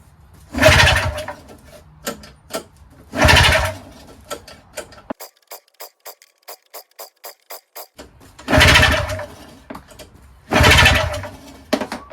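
Seized engine of a Yard Machines single-stage snowblower being cranked with carb cleaner in the intake, giving four loud strained pull-start bursts with a rapid ticking spell in between, and no catch.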